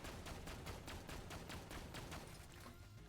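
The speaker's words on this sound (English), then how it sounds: "that shoots really, really fast" Rapid-fire weapon in Borderlands 2 rattles off a fast, steady stream of shots, a dozen or so evenly spaced cracks over a few seconds, fairly distant and unbroken by talk.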